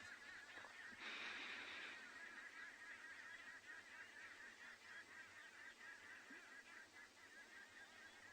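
Arrow-marked babblers and other birds call at sunset on the Tswalu safari reserve, harsh honking cries that rise clearly at first and then continue more faintly from a distance over a soft background hum.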